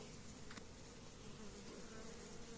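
Honeybees buzzing and flying around a hive during a mite-drop check after oxalic acid treatment, a steady faint insect drone with no talking.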